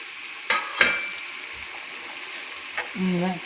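Tomato pieces and salt tipped into a pan of frying amaranth leaves, giving a couple of sharp clatters and soft knocks of pan and utensil with a faint background sizzle.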